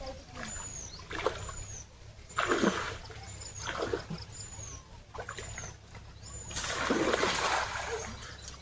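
Water splashes in bursts as someone fishes with a net while standing neck-deep in a Sundarban village pond, several separate sloshes over quiet gaps, with faint bird chirps repeating in the background.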